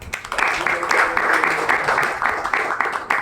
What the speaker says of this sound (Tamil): நீங்கள் அப்படியே ஒரு கைத்தட்டு கொடுங்களேன் எல்லாரும்